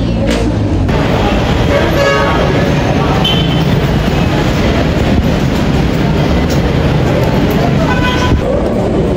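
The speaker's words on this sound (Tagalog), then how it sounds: "Sakay kami MRT." Riding inside an MRT train in Quezon City, Manila, a loud, constant rumble and rattle fills the carriage, with a short tonal squeal near the start and end.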